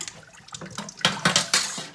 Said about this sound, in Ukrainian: Воду зливаємо